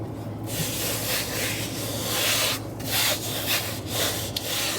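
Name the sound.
rubbing down a protector skin on a MacBook Pro 16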